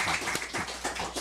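A church congregation claps in a burst of applause, with quick irregular hand claps forming a rapid patter that stays steady through the moment, fairly close, without speech.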